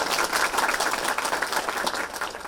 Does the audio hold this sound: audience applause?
yes